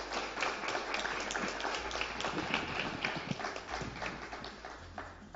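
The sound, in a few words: applause for an award honoree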